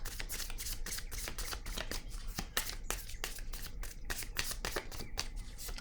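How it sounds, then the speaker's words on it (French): A deck of tarot cards is shuffled in a steady run of quick riffling flutters that repeat evenly for several seconds, close but fairly quiet. "Allons-y avec une autre carte."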